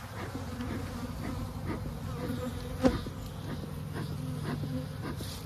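Honeybees hum inside a winter hive, a low, steady drone with one brief knock midway, and no speech.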